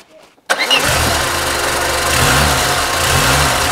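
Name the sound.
Peugeot car engine being started with the starter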